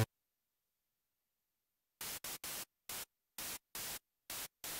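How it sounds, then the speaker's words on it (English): White noise from an ELZ_1 play synthesizer's noise source, heard as a series of loud, hissing bursts that switch abruptly on and off in an irregular rhythm after two seconds of silence. "Set the noise to white noise and increase the level."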